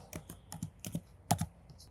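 Typing on a computer keyboard while entering form details such as a zip code, a quick irregular run of soft key clicks, close and quiet, with no talking.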